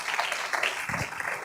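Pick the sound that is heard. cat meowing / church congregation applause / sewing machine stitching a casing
church congregation applause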